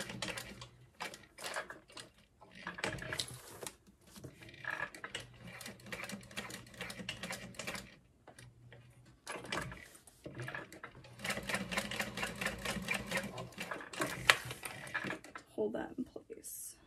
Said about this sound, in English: I'm just doing a little box stitch.